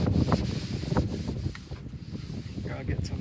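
Wind blows across the microphone outdoors while an old tractor is being cleaned, a loud broadband rumbling gust noise with buffeting bursts throughout the short stretch.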